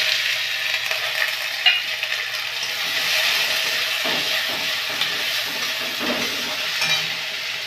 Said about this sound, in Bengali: বড়িটা একটু ভেজে নেবো লাল লাল করে